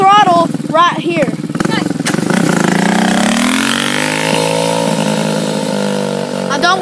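A four-wheeler ATV engine revs hard near by, its pitch climbing into a loud, sustained high whine, after a voice shouts over the rough idle at the start.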